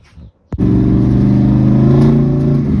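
A single-turbo second-generation Ford Mustang GT revs hard on the street toward 7,000 RPM, a loud, sustained engine roar that kicks in abruptly after a brief quiet start and holds steady to the end.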